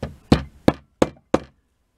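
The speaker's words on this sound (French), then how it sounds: "sur la tête de vis, un petit coup de marteau," A light hammer repeatedly taps a screw head on a diaphragm carburettor, five sharp, close knocks spaced roughly a third of a second apart, each ringing briefly before silence.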